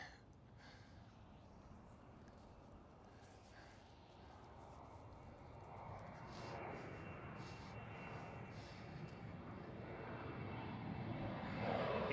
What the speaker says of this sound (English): KLM, Boeing 777-300 ER.